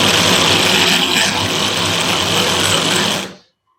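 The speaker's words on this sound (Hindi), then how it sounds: "बॉश का ये 12 वोल्ट का स्क्रू ड्राइवर है ये इसे रिवर्स रोटेट कर रहा है" A Bosch 12 volt cordless electric screwdriver runs in reverse at torque setting 10, giving a loud, steady motor whine close to the microphone for about three seconds before stopping abruptly.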